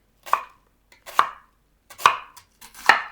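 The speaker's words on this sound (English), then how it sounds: "I like to slice my onion just long ways." A knife slicing an onion lengthwise into thin strips on a cutting board, with four crisp, evenly spaced chops, close and clear with no talking.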